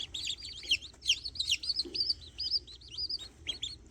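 Baby chicks chirp in quick, high, repeated peeps close by, a busy overlapping chorus of tweets on a homestead with no talking.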